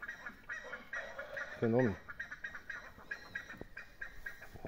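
An Indian game rooster (galo índio) gives a short, harsh, honking crow over a noisy outdoor yard, with someone talking before and after it.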